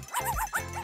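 A dog barks a few times in a dollhouse play scene with toys in a child's bedroom, short yappy calls close up over a steady background.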